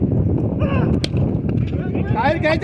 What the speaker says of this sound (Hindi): अगेन अपसेट मोमेंट और गुड शॉट अयान का।